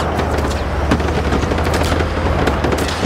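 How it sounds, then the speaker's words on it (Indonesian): Soldiers pour heavy, continuous automatic gunfire in the Just Cause 3 video game, a dense roar of rapid shots and blasts that stays loud and steady throughout, with no talk. "Baru satu bintang udah ditembak bertubi-tubi nih."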